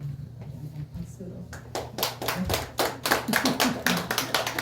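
A church congregation claps in welcome during a worship service, a dense run of hand claps that starts sparse and builds after a second into steady, fairly loud applause over low background murmur.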